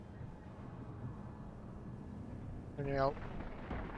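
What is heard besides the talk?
thunder-like rumble in a video game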